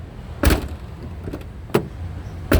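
Rear door of a 2007 Isuzu Panther LS Turbo being opened and worked, giving three sharp latch clicks and thuds spaced about a second apart, close and clear with no talking.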